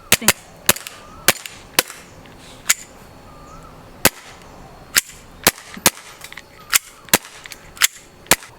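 BB pistols fired at a target roughly 10 to 12 meters away, with sharp snapping shots at irregular intervals, a dozen or more, close and loud against a quiet background.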